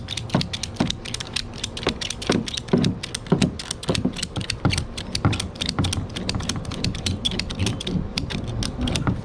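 Ratchet strap being cranked tight over a large kayak on a small car's roof rack, a rapid series of sharp mechanical clicks in bursts, close and fairly loud, with no talking.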